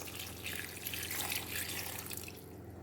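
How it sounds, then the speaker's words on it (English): Water pours steadily into a pot of cooking meat, a continuous rushing splash at low level with no voices. "I'll add water to this."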